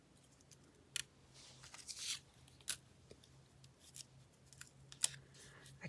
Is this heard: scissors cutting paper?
yes